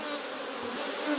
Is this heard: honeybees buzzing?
yes